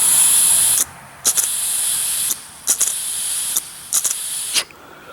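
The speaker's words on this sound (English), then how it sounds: "when you let go of the float, you should be able to hear the air come through" Air hissing steadily through a carburetor float needle valve, loud and close, cut off and restarting several times as the float is pressed and released, with small clicks between bursts.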